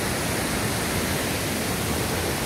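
El Chiflón waterfall roaring as a steady, broadband rush of falling water with mist blowing in, continuous and loud with no voices.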